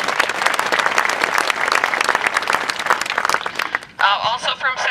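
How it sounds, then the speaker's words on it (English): An audience at a marching band camp applauds a student flute clinician with steady, dense clapping that fades near the end, where a voice starts speaking. "you can clap for her"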